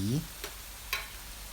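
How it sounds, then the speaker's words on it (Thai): Catfish stir-fried in a pan with curry paste, green peppercorns, krachai and chilies gives a couple of quick spatula scrapes over a faint sizzle, after a brief voice at the start. "แล้วผัดให้ทุกอย่างเข้ากันค่ะ"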